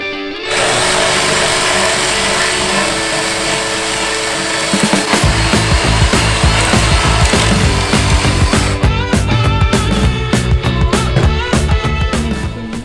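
A power tool drills holes into a wooden battery box in a van tiny-home build, a loud steady whir that turns into a harsher chattering grind through the wood partway through, with no talk.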